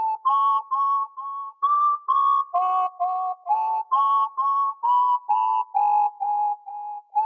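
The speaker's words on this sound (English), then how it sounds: "here's the melody I laid down with the whistle." A dark trap melody played on a whistle sound, a series of clean sustained whistled notes in a rhythmic pattern with short gaps between phrases, loud and alone.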